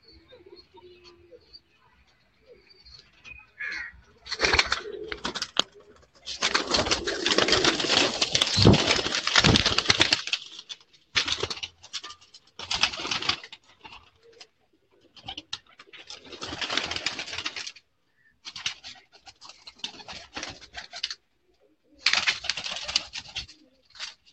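Teddy pigeons kept on a rooftop make soft cooing and fluttering sounds in uneven bursts, close by and moderately loud, while someone talks at times.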